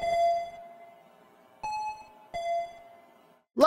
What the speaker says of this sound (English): They keep ringing the stupid doorbell, can't you hear it?